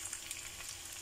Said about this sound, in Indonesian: kita goreng sampai matang ya teman-teman ya